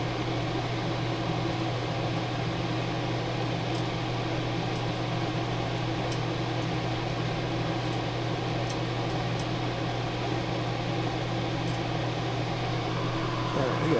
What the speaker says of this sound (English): I know that fume extractor's loud.